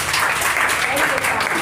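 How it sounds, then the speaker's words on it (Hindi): Students in a spoken English class applaud a classmate's performance, a brief steady patter of clapping hands in a room. "लेकिन ताली बजती है भैया"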